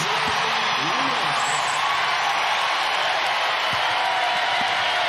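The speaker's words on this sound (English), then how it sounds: "the Baylor crowd on their feet as the Bears are now within 8" A Baylor basketball crowd roars steadily in an arena during a game against South Dakota, a loud, sustained wash of cheering under a commentator's voice.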